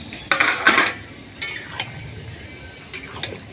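Fried prawns go into a pot of cauliflower and potato curry, with a few sharp metal clinks and scrapes of a utensil against the pot in short bursts, close by and alone.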